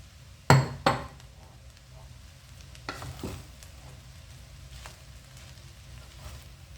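Peas tipped into a pan of frying vegetable and egg fried rice made with leftover rice: two sharp metal clinks, then a soft continuous sizzle with scraping stir strokes, close and moderate.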